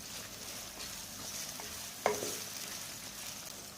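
Whole cumin, dried coriander seeds and chunky ginger fry in oil over a medium flame, giving a soft steady sizzle with a single sharp clink of a spoon partway through.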